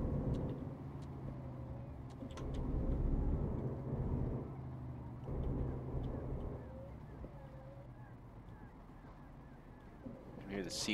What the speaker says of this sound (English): You can hear the seagulls in the background.